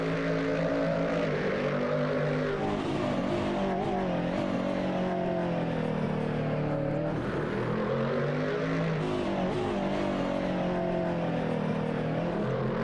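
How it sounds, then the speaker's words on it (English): A Corvette DP prototype race car at Silverstone in the racing game Assetto Corsa gives a steady, droning exterior engine note with shifting harmonic pitch, loud and continuous throughout and with no talk over it. "the exterior sounds on this car are weird"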